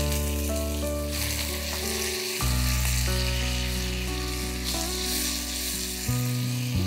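A pan sizzles steadily while ingredients fry for Bengali mango rice, a continuous loud hiss under background music.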